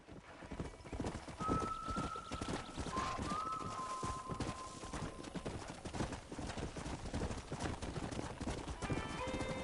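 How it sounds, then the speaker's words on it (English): Horse hooves clip-clop in a fast, steady gallop throughout, joined by a couple of neighs, in the Red Dead Redemption western video game, with faint game voices and music under the hoofbeats. "Giddy up! Come on! Come on, Mr. Marston, pick up the pace"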